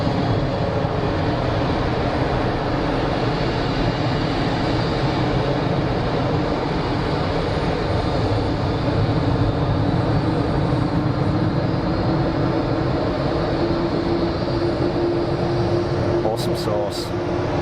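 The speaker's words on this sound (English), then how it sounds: "We got noisy departure" An airliner departing Geneva Airport roars loudly and steadily at full throttle, a broad, sustained engine rumble that stays constant throughout with no pauses.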